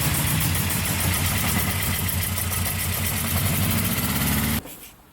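A 1959 Austin-Healey Bugeye Sprite engine idles steadily with a low, lumpy rumble, close and loud, then cuts off abruptly near the end.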